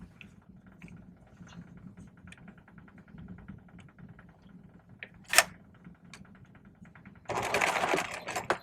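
A serger sewing machine runs briefly over pinned side seams, a loud whirring burst of about a second near the end that follows quiet ticking and a single sharp click.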